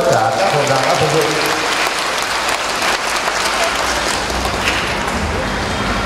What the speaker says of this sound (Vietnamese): chúng ta cùng nổ một tràng pháo tay cảm ơn tất cả các hội đoàn đã phục vụ